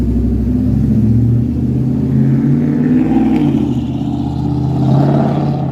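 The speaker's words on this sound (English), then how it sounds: "That's an unnecessarily loud pickup truck." An unnecessarily loud pickup truck passes along a Toronto street in the evening, its engine rumbling and revving close by. The sound swells, eases off and then swells again as it goes by.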